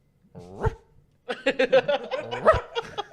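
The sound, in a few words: person imitating a dog bark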